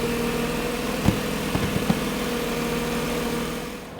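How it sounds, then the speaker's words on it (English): A Mercedes W140 S-Class engine runs at idle while it warms up, a steady close hum with a few light mechanical clicks and taps partway through, fading slightly at the end. "Getting the engine up and running, gonna get it up to operating temperature"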